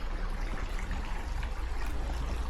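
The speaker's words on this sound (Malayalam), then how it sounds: "ഇതിൽ നമ്മൾ ഇങ്ങനെ വെള്ളം നിറയ്ക്കുക" Water runs into a bowl at a Buddhist monastery in Hong Kong, a steady close trickle and splash with no voices over it.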